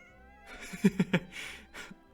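A cat meows softly a few times in quick succession, close by, with short bright calls and a quieter one trailing after.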